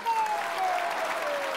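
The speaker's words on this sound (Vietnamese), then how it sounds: "mong là quý vị khán giả hãy cho Thư và Thủy một tràng pháo tay nha" Studio audience on a Vietnamese television game show breaking into applause, a short steady burst of clapping with a faint tonal music line running underneath.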